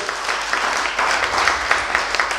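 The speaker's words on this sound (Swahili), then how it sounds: "Tupatie Bwana makofi katika jina la Yesu" A church congregation claps for the Lord, a brief burst of loud, dense applause with rhythmic clapping accents running throughout.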